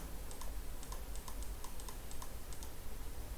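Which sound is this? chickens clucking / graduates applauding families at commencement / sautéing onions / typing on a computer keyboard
typing on a computer keyboard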